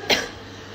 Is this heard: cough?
yes